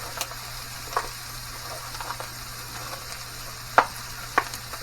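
White onion fries in a pan with bacon and corn, giving a steady close sizzle over a low hum, with a few sharp spatula clinks and scrapes.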